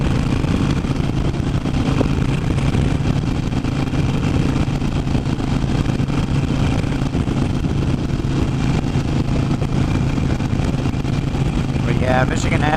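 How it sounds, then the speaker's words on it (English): Harley Iron 883 motorcycle cruising on a smooth road, a loud continuous engine rumble mixed with heavy wind buffeting throughout, close and steady with a rider's voice talking over it. "I don't know over the wind noise and how loud this fucking bike is."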